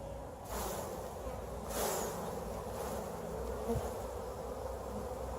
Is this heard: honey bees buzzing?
yes